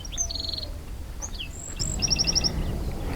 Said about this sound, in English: here's a lonely little bird up there in that tree, singing away